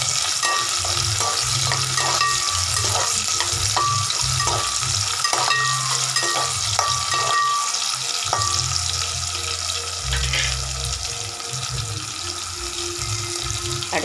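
Small onions sautéing in a pan for karamani curry, a steady sizzle with repeated stirring scrapes throughout, close and fairly loud, no talking.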